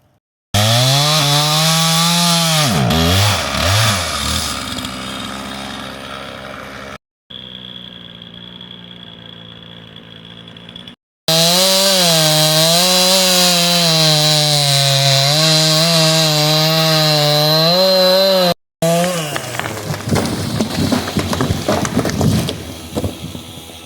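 A chainsaw cutting down a tree, the engine snarling loudly in long bursts with pitch rising and dipping as the blade bites into wood, broken by short pauses and a quieter idle between cuts.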